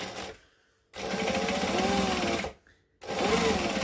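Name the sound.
sewing machine top stitching along fabric edge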